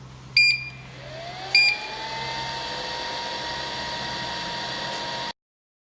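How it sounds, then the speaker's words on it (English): Plastic molding machine for iPhone covers set to 200 degrees starting up: two sharp beeps, then a steady whirring hum with a rising motor tone that holds loud and constant until it cuts off abruptly. "let's start the machine now."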